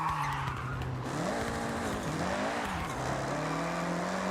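A tuned Honda brakes hard and skids in Forza Horizon, tires squealing continuously under a droning engine note that wavers as the car slides, loud and close throughout.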